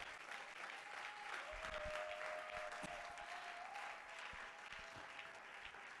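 A church congregation at an Easter seminar service breaks into sustained clapping, a fairly faint, even wash of applause with a tone held over it.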